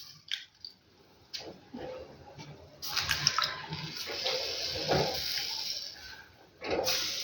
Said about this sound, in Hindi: सब साइड से हमने पानी लगाया